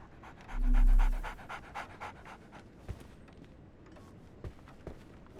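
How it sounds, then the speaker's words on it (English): A dog pants in quick, rhythmic breaths in the video game Sherlock Holmes: The Awakened, close and clear at first, then fading. A few soft footstep-like taps follow. "So, Barnes has a dog now."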